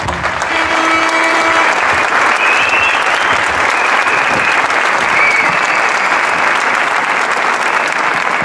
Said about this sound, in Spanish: me gustaría dar un fuerte aplauso por ellos